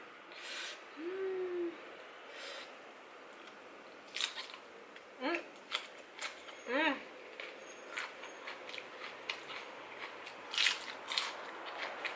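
Someone bites into crunchy salmon larb wrapped in fresh sweet leaves, producing crisp crackling bites and chewing up close, interspersed with soft vocal sounds.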